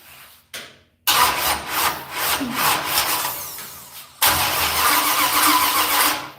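A car engine with an ignition timing problem cranks over hard in two loud, grinding starter bursts after a brief quiet, close up in a garage.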